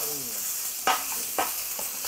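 A Chinese wok sizzles steadily as food fries, with a few sharp clanks of a utensil striking the pan while stirring.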